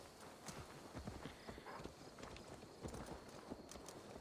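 Horse hooves clip-clop at a walking pace in the video game Assassin's Creed Valhalla, a faint, steady run of soft knocks over quiet background ambience, with no talking.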